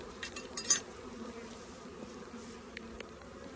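Honeybees buzzing around an open beehive, a steady soft drone of many insects with individual bees flying close past now and then, fairly quiet overall.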